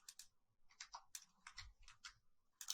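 Someone typing a command into an SSH session on a computer keyboard: short bursts of quiet, close key clicks in an irregular rhythm.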